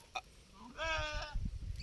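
A goat on a goat farm lets out one clear, nasal bleat lasting about half a second, close by, with low background noise and faint murmuring around it.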